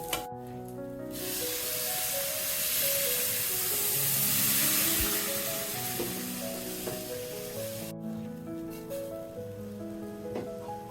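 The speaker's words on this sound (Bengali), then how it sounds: "আমি গরম জল দিয়ে দিয়েছি, আগের থেকে গরম করে রেখেছি।" Loud, steady sizzling as hot water hits frying rice in a hot pan, a hissing wash that swells and fades over several seconds with soft clinks underneath; no one speaks.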